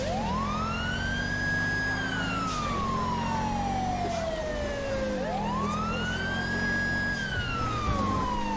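A wailing police siren in GTA 5 sweeps up and down in two slow cycles, loud and continuous over engine rumble.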